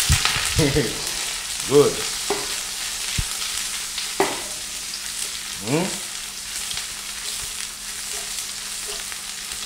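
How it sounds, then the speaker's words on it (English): Onion and garlic seasoning sautés in a pan with a steady soft sizzle, broken by a few louder stirring scrapes and spatula knocks, while a person speaks briefly over it. "You sauteing it nice."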